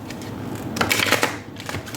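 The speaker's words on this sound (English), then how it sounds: "Oops, bad shuffle." A short burst of tarot cards being riffled and flicked together, close up, with a quiet scrape before and after.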